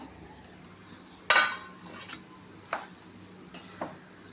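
Egg biryani is mixed with finely chopped coriander in a pot: a sharp metallic clank of a spoon against the vessel, then a few softer scattered scrapes and clinks, fairly close with no talk.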